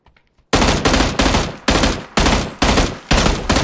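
Loud, close gunfire from a shooter video game: seven or eight heavy shots in steady succession, each with a sharp crack and a short decaying tail, after a brief near-silent start.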